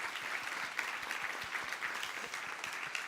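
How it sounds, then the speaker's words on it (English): Audience applause at an award presentation during the Open Future Festival in Hong Kong, a steady wash of many hands clapping at moderate volume for about three seconds, without talk. "Everyone could applaud him."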